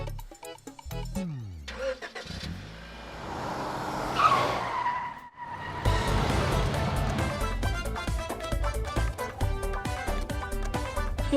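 A car driven hard with tires skidding and squealing, engine roaring and revving in bursts close by, with a brief lull in the middle before the racing engine and skid noise surge back.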